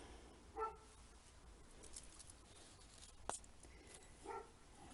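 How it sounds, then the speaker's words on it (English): A neighbour's dog gives a few faint, distant barks, spaced well apart over quiet room noise, with no one speaking. "Please excuse a neighbour's dog."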